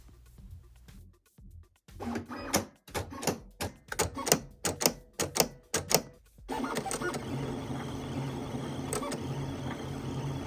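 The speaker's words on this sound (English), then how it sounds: "It's cutting those holes and moving them, the blade in circular motion." A cutting machine's blade cutting holes in a rhinestone template film gives a run of rapid, irregular ticking and clicking bursts, then settles into a steady mechanical whir, close and fairly quiet.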